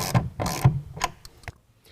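A 1/2 inch ratchet snugs down bolts under a tonneau cover on a 2017 Ford F-150, giving a few sharp, close clicking bursts that trail off into quieter ticks and silence.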